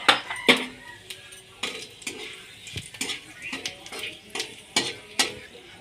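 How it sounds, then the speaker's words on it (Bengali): Bay leaf and panch phoron fry in mustard oil in a wok with a soft sizzle beneath repeated metallic scrapes and clinks of a spatula stirring against the pan. "এবার কড়াইতে সরষের তেল দিয়ে দিলাম। তেলের মধ্যে তেজপাতা আর 5 ফোড়ন দিয়ে ভালো করে ভেজে নেব।"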